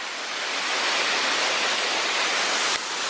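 A waterfall roars as a steady, dense wash of falling water, loud and close, with no voices.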